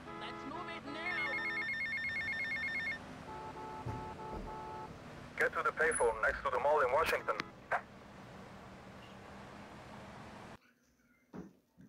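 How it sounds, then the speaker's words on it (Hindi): A phone rings in the GTA video game, a repeating electronic ring loud in the first few seconds, followed by bursts of other game sounds and a voice talking. "हाँ अभी सच्ची में कॉल आ रहा है"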